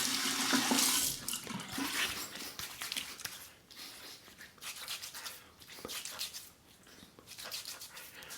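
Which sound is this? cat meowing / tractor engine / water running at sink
water running at sink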